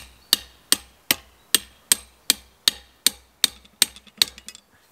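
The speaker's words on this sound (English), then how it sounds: "Can I use your hammer again?" Hammer blows ring out in a steady series of about twelve sharp, loud strikes, evenly spaced and then quickening slightly toward the end, each with a short metallic ring, close by and with no talking.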